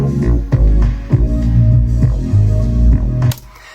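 A piano part in a music mix plays short squelchy grace notes, each leading into a solid held note. The figure repeats in regular phrases about every half second, close and full, then cuts off near the end.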